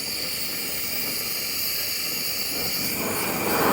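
Power Flamer 160 wok burner roaring with a steady, loud hissing blue flame that swells slightly toward the end, close to the microphone with no talk.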